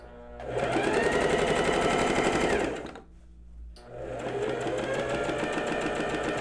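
A sewing machine stitching a basic blouse runs in a steady, fast whirring rattle, stops for about a second, then starts again and continues, close and loud.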